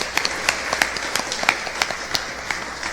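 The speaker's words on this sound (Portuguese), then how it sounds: "Então a gente vai aplaudir a vida dela com muitas palmas." A church congregation claps during a service: sharp, distinct handclaps fall in a loose, fairly regular rhythm, sounding like a modest group rather than a large crowd.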